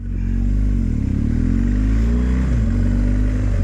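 A BMW R 1250 GS Adventure Trophy 2023 motorcycle's engine hums up close as it pulls away, the note rising and dipping through a gear change with a steady, loud drone throughout.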